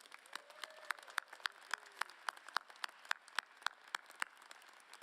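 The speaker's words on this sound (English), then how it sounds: "Let's give her a heartfelt round of applause." A commencement audience at a college graduation ceremony breaks into applause, individual sharp claps standing out in an uneven rhythm over a softer background patter, with faint voices briefly audible.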